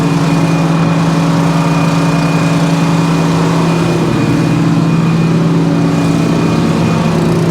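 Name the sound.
sawdust blower engine exhaust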